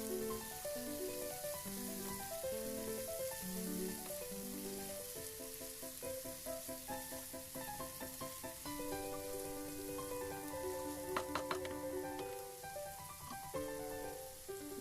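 Chopped cabbage and mixed vegetables for egg-chicken chowmein stir-frying in a pan, giving a continuous soft sizzle with occasional light crackles beneath melodic background music, and no talk.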